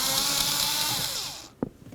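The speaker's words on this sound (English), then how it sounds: "Remove that last bolt." A bolt is backed out under the dash of a 1988–2000 Chevy C/K1500 during blower motor replacement: a loud, close whir runs for about a second and a half, cuts off, and ends in a single sharp click.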